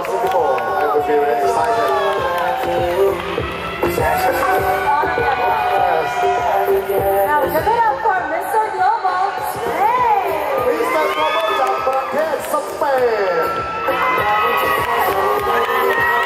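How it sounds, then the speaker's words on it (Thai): Fans at the Mister Global 2016 male pageant cheer for their contestant, a loud, dense crowd roar with shouts and whoops running steadily throughout. "แฟนคลับมากมายมีไม้ไฟและเสียงเชียร์"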